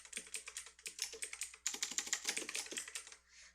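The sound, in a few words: typing on a loud computer keyboard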